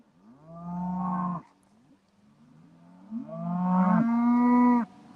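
Cows on a farm moo loudly nearby, two long drawn-out bellows separated by softer grunting, deep and resonant with no talk.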